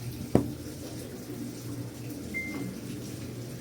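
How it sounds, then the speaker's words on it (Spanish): Cold water runs through the inlet valve of a washing machine under repair, a soft steady trickle and splash close by, opened by a brief clunk at the start. "Ahí está cayendo ya el agua."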